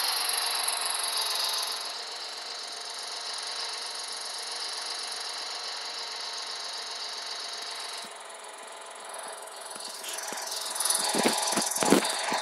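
A combine harvester engine in the video game Farming Simulator 14 runs with a steady, droning hum at moderate level, shifting slightly in tone partway through, with no talking.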